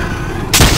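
A dart gun fires at a dinosaur in the Trespasser video game, giving one sharp, loud burst midway through over steady game background noise.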